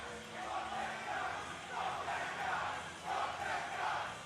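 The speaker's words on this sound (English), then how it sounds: "And you get some wild crowds like we have here for this." A wild wrestling crowd at an NJPW Battle in the Valley event between Will Ospreay and Alex Zayne, a dense roar of cheering and shouting that swells and falls in waves, loud and continuous throughout.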